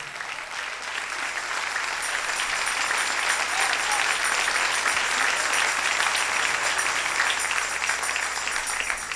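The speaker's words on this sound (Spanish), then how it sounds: "Dele ese aplauso al Rey." A church congregation claps in a long, dense, even burst of applause during a Spanish-language sermon, steady and loud from start to finish with no pauses.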